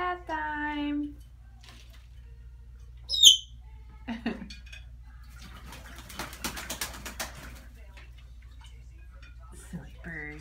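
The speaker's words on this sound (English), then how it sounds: "Silly birds." Pet birds taking a bath make a few soft coos and a sharp brief chirp, with light fluttering and splashing in the middle, over a steady low hum, while a person talks at the start and end.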